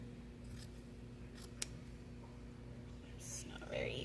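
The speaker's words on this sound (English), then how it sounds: "I'm just going to trim it a little bit, just so that it's all nice and even" Scissors trim the open side of a fabric snack bag in a sewing project, a few soft crisp snips with one sharper click, heard faintly under a quiet voice and low room hum.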